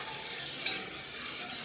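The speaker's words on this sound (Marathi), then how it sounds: "सुकट टाकलेले आहे, ते पण हलवून घ्यायचं आहे" Dried fish (sukat), eggplant and potato cook in a pan, giving a faint steady sizzle with a single soft stirring scrape partway through, alone without talk.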